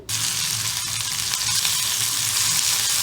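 Sliced okra hits hot oil with asafoetida and turmeric, setting off a loud, close, continuous sizzle that starts abruptly and holds steady, with a light stirring clunk early on.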